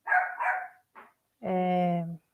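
A dog indoors in a room lets out a couple of loud, close barks, followed after a pause by a longer drawn-out whining yelp.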